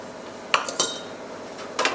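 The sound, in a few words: spooning pasta into an oven-safe dish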